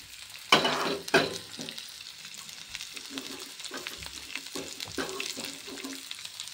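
Mixed vegetables fry with ginger garlic paste in a pan for veg rolls: soft, close sizzling with a couple of sharp stirring clatters early on, then lighter intermittent scraping, no voices.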